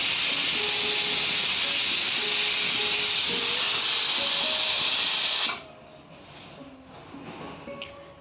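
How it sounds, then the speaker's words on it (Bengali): A pressure cooker cooking rice on a home stove gives off a loud, steady hiss of steam for several seconds, then cuts off abruptly, leaving quiet room sound with faint clatter. "এই দেখো ভাত বসিয়ে দিয়েছি, প্রেসার কুকারে বসালাম"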